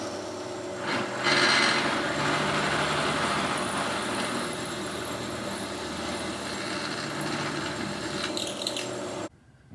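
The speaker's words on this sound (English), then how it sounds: "Now I'll drill a pilot hole down there just to locate it." A power drill grinds steadily, drilling a pilot hole in a motorcycle inlet manifold for about nine seconds, a continuous rasping whir that cuts off abruptly at the end.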